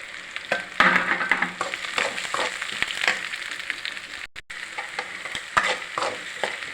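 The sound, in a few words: sautéing sprouted urad dal in a pan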